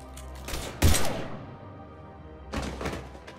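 Gunfire erupts in a Mass Effect 3 firefight: a loud sharp burst near the start, a quieter stretch, then another flurry of shots toward the end.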